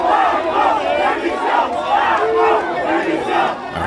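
A jubilant street crowd cheers and shouts in loud, close surges. Many voices rise and fall together in rhythmic waves of chanting and roaring.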